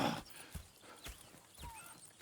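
Horses in the Red Dead Redemption 2 game world: a few hoof clops and soft snorts scattered over a quiet ambient bed, with faint whinny-like rising calls, close and moderate in level.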